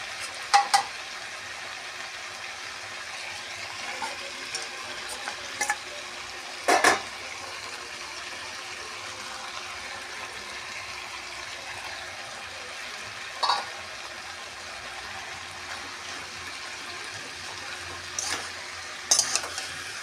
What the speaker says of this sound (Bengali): মাছের ডিমগুলো দিয়েছি এবারে একটু ভালো করে নেড়ে ছেড়ে জল দেবো